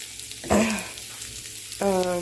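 Potato breakfast bowl frying on low heat in a pan, a soft steady sizzle close by with a voice speaking over it.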